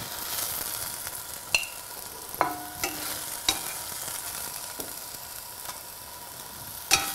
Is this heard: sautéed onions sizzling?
yes